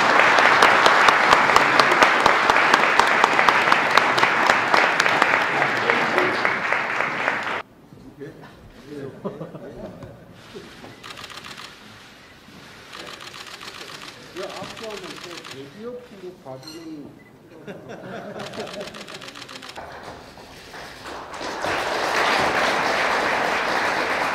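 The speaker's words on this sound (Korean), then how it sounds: "모두 큰 박수로 맞이해 주시기 바랍니다" An audience at a South Korean presidential campaign event bursts into loud, sustained applause welcoming the Liberty Korea Party candidate Hong Joon-pyo, fading for a stretch under a speaker's voice before swelling again at the end.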